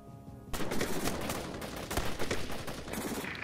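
Video game gunfire in Afghanistan '11 skirmish: after a brief quiet moment, dense bursts of rapid automatic shots erupt and continue loudly without pause.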